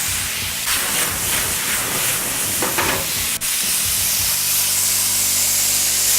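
Poblanos and tomatoes for beef fajitas sizzle in a hot pan, a steady, close, bright hiss with some stirring and scraping, no talk over it.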